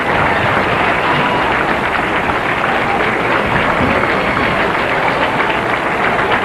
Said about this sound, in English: Parents standing, crowd cheering.